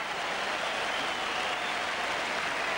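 A large cricket crowd at a 1981 World Series Cup match involving Australia roars its approval of a misfield, a dense unbroken wash of applause and cheering that holds loud and steady throughout.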